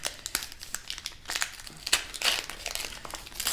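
A foil Flesh and Blood trading card pack from a Dynasty case crinkles and tears open up close, with steady crackling foil sounds and sharper rips throughout.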